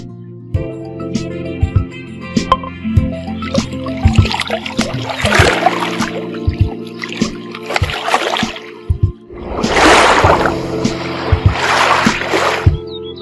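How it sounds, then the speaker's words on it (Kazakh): Water splashes in two bursts, like oars or paddles dipping, over steady background music with no talking. "Kayık."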